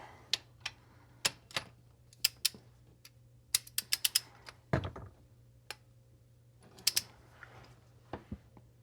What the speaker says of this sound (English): getting my torque wrench already set